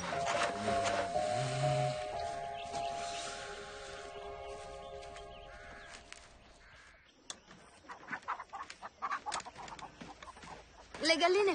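Farmyard hens cluck and crow in short bursts near the start, then a rooster-like cry and scattered clatter follow, with people talking intermittently over the birds.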